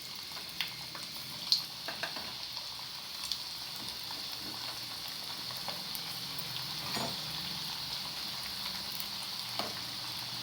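Onion vadiyalu crackle and hiss as they fry in hot oil: a steady, faint sizzle broken by occasional small pops, with no voices.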